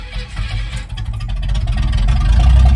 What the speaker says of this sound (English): I love the idling. It idles really well